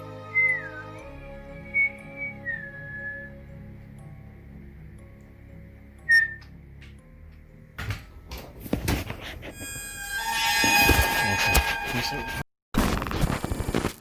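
A person whistles a short wavering tune in a living room, soft and intermittent, before louder clattering and rustling noises take over and briefly cut out.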